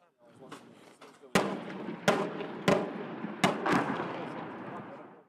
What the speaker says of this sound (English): In prolonged artillery and mortar barrages.